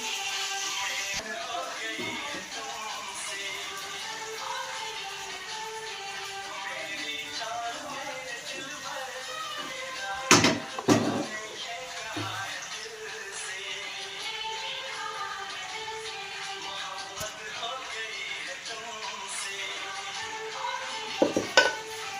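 Sweet zarda rice being stirred and mixed in a pot, soft steady scraping with a few sharp clanks of a spoon against metal, fairly quiet and close.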